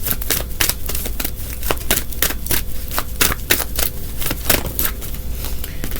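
Tarot cards are shuffled and handled close up in rapid, crisp riffling bursts, a steady run of papery flicks and slaps with no talking over them.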